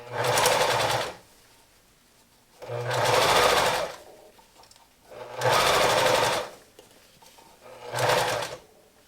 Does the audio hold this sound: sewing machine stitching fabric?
yes